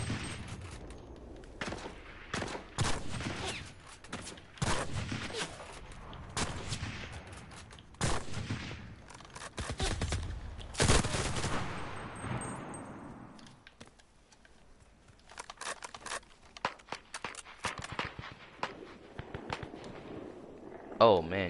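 Bursts of MP40 submachine gun fire in the video game Cuisine Royale, rapid repeated volleys clustered in the first half, then sparser shots, with players talking over the gunfire.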